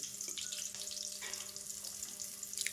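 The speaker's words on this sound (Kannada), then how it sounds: "ಇವಾಗ ಒಗ್ಗರಣೆ ಕೊಡ್ತಾಯಿದ್ದೀನಿ. ಈರುಳ್ಳಿ, ಹಸಿಮೆಣಸಿಕಾಯಿ, ಕರಿಬೇವು," Onion, green chili and curry leaves frying in oil for a tempering give a soft, steady sizzle with light crackles, faint and continuous throughout.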